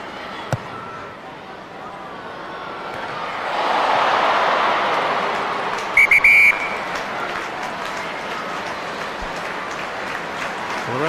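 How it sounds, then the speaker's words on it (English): A referee's whistle signals half-time at a Scotland versus Japan rugby test match, a short sharp shrill burst rising above a broad roar of crowd noise and applause, with a commentator's voice underneath. "The referee's whistle's gone for half-time."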